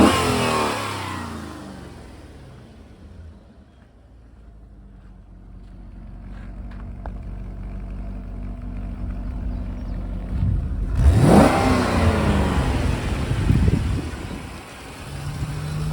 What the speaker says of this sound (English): Go ahead and rev it up here.